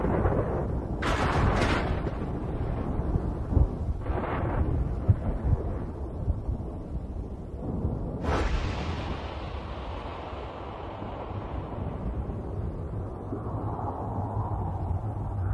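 Monsoon thunder in Cambodia rolls and rumbles through several heavy bursts, with a sharp crack partway through and a long decaying roar after it over a steady background hiss.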